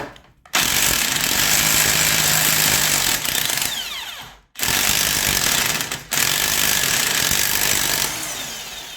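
Air impact gun working a rusted bolt loose on a scrap ATV dump trailer, three loud sustained rattling bursts with brief gaps between them, close and alone.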